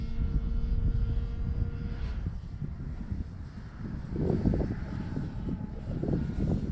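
An E-flite Clipped Wing Cub RC airplane drones steadily overhead at a runway in strong wind, its electric motor hum holding a constant pitch with wind buffeting the microphone.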